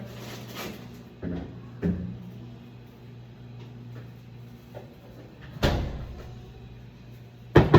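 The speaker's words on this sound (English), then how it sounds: "close the door for me, please" A household door closes with a few dull knocks and bumps at irregular intervals, a louder thud near the middle and a sharp close at the end, heard nearby in a quiet room.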